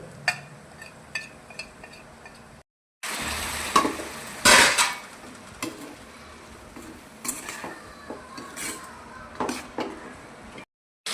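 Chicken frying in a pan with masala: a spoon scrapes and clatters against the pan in scattered knocks over a soft, steady sizzle, with no talking.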